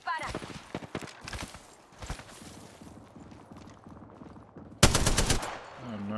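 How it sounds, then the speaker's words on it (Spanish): Enemy gunfire in a shooter video game: scattered shots early on, then a loud, fast automatic burst near the end, with game voices speaking over parts of it. "Los enemigos me están disparando."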